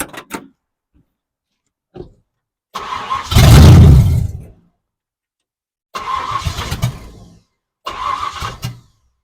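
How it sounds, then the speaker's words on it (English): A 1970 Ford Falcon that won't run after a carburetor cleaning cranks over loudly in several separate bursts of starter churning, with a couple of brief clicks before and silent gaps between. "All right, let's crank it over once or twice."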